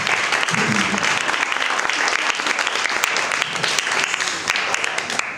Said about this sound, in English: So maybe let's applaud the family from abroad.